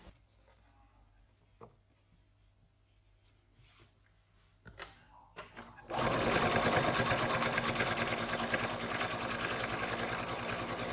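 Faint handling and rustling come first, then a sewing machine stitching a pocket starts up loud and close and runs steadily for about five seconds to the end.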